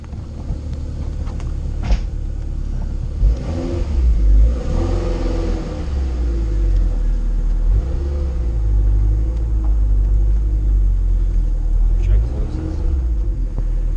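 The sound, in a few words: turbocharged car engine revving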